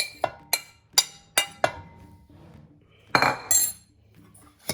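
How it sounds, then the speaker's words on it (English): A utensil in a big bowl mixes bacon, egg and cheese, with five sharp, close clinks against the bowl, a brief scraping stir, then a final clink. "I'm just going to mix all my ingredients in a big bowl like this"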